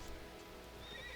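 A horse neighs in the Albion Online video game, a brief whinny over steady game background noise, with a faint hoof clip-clop, no talking.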